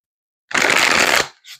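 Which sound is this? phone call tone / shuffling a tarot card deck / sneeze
shuffling a tarot card deck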